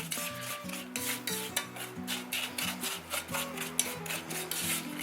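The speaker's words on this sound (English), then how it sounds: "you're just going to combine those crackers and that butter" Crushed saltine crackers being mixed with butter for a pineapple casserole topping: steady scraping and rubbing of a spoon through the crumbly mixture in a bowl, close up, with soft music running underneath.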